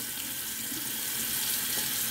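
Steady tap water runs into a sink while a shaving brush is rinsed, a constant close hiss of flowing water with no pauses and no talking.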